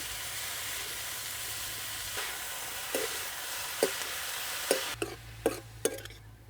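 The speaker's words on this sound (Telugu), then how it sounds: "ఉల్లిపాయలు ఈ మాత్రం వేగాక తోటకూర వేసేసుకుందాం ఇది ఒక్కసారి బాగా దగ్గరగా అయ్యే వరకు కలుపుకోవాలండి" Amaranth greens and sliced onions frying in a pan, a soft continuous sizzle broken by several sharp scraping strokes of a spatula as they are stirred, no voices.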